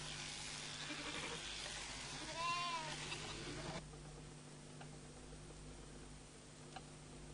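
Jacob sheep on a small farm holding, a single faint wavering bleat midway over steady background hiss and hum, distant and low in level.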